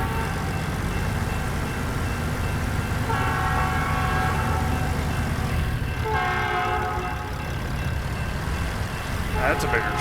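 A long freight train rolls past in the American Truck Simulator game, a steady rumbling drone with its horn sounding in repeated blasts, under the hum of the truck cab.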